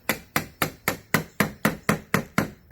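Nine sharp, evenly spaced hammer blows striking PVC pipe fittings, steady and close, with no voices.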